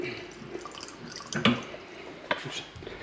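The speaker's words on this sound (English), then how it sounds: "I'm just going to put in some hotter water just to get that up a bit" Hotter water is poured into a biOrb aquarium during a water change, with close splashes and drips swelling in two louder bursts over a faint background.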